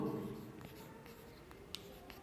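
Pen or marker writing on paper during a tenth-grade geometry lesson on right triangles, a steady close scratching stroke with a few light taps, quiet and without speech.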